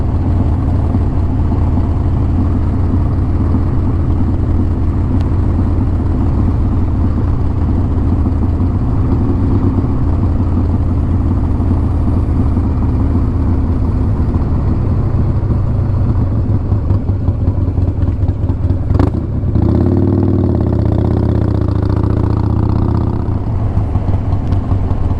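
A motorcycle engine drones steadily at close range for the whole stretch, its pitch shifting briefly as the rider eases off near the end.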